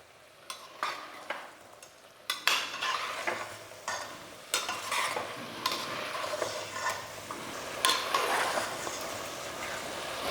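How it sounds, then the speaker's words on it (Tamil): Chicken pieces sautéing with a ground spice masala for a chicken kurma, with a soft sizzle under repeated scraping and stirring strokes that grow denser and louder toward the end, close by and without talk. "இந்த அளவுக்கு எல்லாமே நல்லா வதக்கணும் ஒரு ரெண்டு நிமிஷம் நல்லா வதங்கட்டும்"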